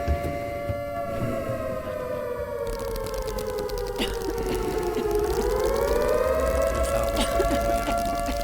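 An air-raid style siren wails in the horror game Summer of 58, a loud sustained tone that rises, dips in pitch and swells again over a low rumbling background, with no talking.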